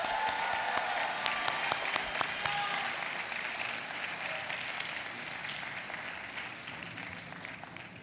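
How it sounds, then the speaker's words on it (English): Law school graduates applauding their loved ones at a commencement ceremony, a broad sustained wave of clapping from a large crowd in a hall, steady and then slowly thinning. "give them a well-deserved round of applause"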